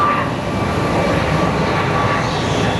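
A Boeing 737 MAX jet engine at Phoenix Sky Harbor airport, a loud continuous roar and whine heard nearby, steady throughout with no talking.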